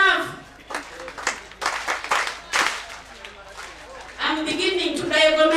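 A youth conference crowd gives several scattered rounds of clapping, uneven bursts of claps that swell and drop, mixed with talking voices.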